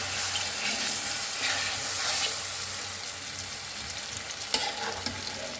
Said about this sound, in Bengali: তেলটা একটু গরম হয়ে গেলে এখন আমি এই আমগুলো দিয়ে দেবো তেলের মধ্যে।